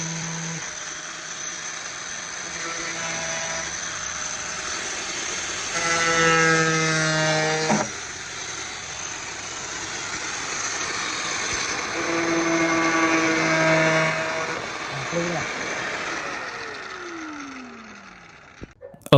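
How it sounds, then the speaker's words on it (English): An angle grinder cuts through a PVC pipe section used for roof repair, whining steadily with a motor hum and a rising bite partway through, broad and fairly loud, tapering off near the end. "Next, we now cut the PVC pipe using a grinder."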